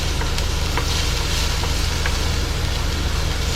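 Peppers and onions seasoned with Italian seasoning sizzle loudly in a frying pan, a constant close crackle broken by a few soft scrapes as they are stirred.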